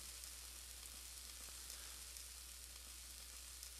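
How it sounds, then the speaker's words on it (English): Bananas frying with butter and sugar in a hot pan in a restaurant cooking game, giving a quiet, steady sizzle with no talking. "Wait for the pan to get hot. Add the bananas"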